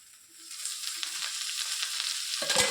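Pundi palya, a North Karnataka greens dish, fries in a little oil in a pan. The sizzle swells from quiet to a steady close crackle, with faint stirring scrapes and a louder clatter near the end.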